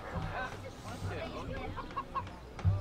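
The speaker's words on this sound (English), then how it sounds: "Catch the chicken." Chickens cluck in the video game Assassin's Creed Liberation, short clucks scattered through the clip amid game sounds and voices.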